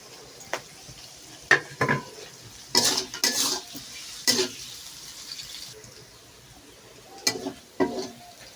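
Onions with green chillies frying in a pan, a low sizzle under repeated clattering strokes of a spoon or spatula against the pan, bursts of stirring close by and no clear talk.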